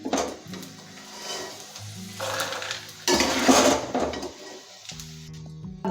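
Roasted edible gum (gond) is scraped and lifted out of a hot pan, sizzling softly, with metal spoon scrapes and clinks against the pan coming in short bursts.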